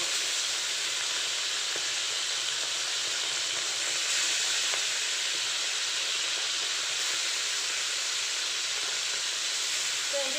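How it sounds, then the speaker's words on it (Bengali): Fish sizzle and hiss in hot oil in a frying pan, a loud, dense and continuous crackle that runs steadily throughout, with no talking. "এবার এক এক করে মাছগুলোকে আমি ভেজে নেব"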